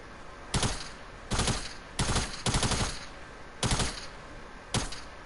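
TAC SMG submachine gun firing in Fortnite, with six short rapid bursts separated by brief pauses, crisp and fairly close with no talk.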